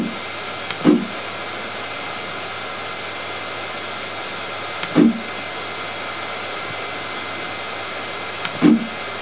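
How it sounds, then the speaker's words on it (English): An X-Carve CNC machine lowers its bit toward the material in three brief mechanical whirring bursts, spaced several seconds apart, over a steady broadband hum. "I'm just going to lower the bit so it only just touches my material"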